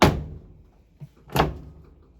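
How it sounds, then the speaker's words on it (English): An LG front-load washer door, model WM3470HWA, swings shut with a solid thunk at the start, followed by a faint tap and a second, firmer latching thud about a second later, close by and with no talk. "Now I'm going to make sure my door closes."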